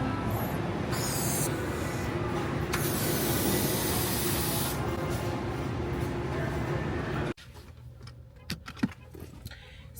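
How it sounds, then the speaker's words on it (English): Helium gas hisses steadily from a tank as party balloons are filled in a store, a loud continuous spray-like rush that stops abruptly near the end, leaving quieter room sounds. "I can hear the helium now."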